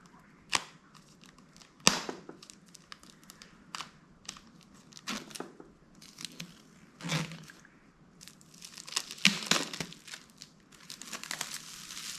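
Packaging on a Lord of the Rings anniversary deluxe edition book crinkles and tears in sharp, irregular bursts while being opened, close and fairly quiet, with scattered rustles between louder crackles.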